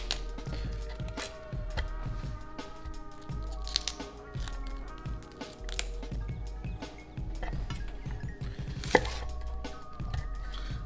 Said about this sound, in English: Then you kind of just want to chop it up in small little bits, so help out the food processor a little bit.